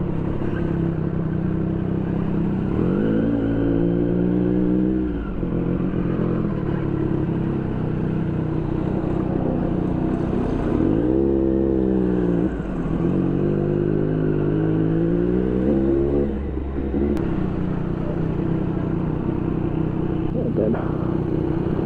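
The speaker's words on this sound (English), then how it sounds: "Oh, so much traffic." Triumph Street Triple RS motorcycle riding through heavy New York City traffic, a steady loud engine drone with rising and falling revs in several surges, mixed with surrounding car noise.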